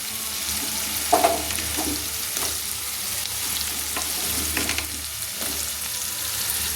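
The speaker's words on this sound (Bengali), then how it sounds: "এবার এই আমি দুটো আলু কুটে একটু দিয়ে একটু ভেজে নিচ্ছি" Potato strips frying in a pan with spring onions and prawns, a continuous close sizzle with scraping stirs and occasional louder crackles, no talk.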